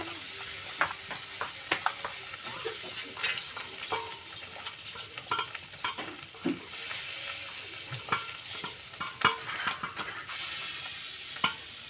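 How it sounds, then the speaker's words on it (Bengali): Pangas fish pieces coated with turmeric, chili, salt and lemon juice fry in hot oil in a pan, a close, constant sizzle broken by sharp pops, spatters and occasional scraping stirs, with no talking. "পাঙ্গাস মাছ খুব ফোটে"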